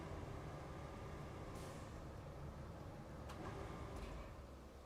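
Air brakes on a truck in a trucking simulator game release three short hisses, one early and two close together near the end, over a continuous low engine rumble.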